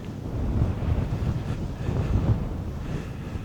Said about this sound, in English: It's a bit breezy today.